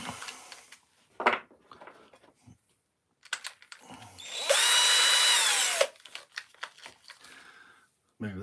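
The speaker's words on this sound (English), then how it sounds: "And now we're going to be drilling that." A power drill bores into wood during woodcarving, one loud steady whine lasting over a second, set between short knocks, handling noises and brief speech.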